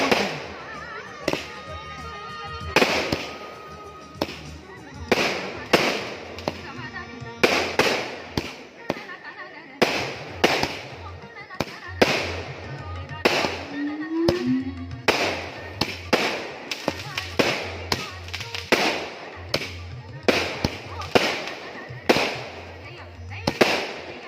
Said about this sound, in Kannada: ಈಗ ಪಟಾಕಿಗಳ ಸದ್ದು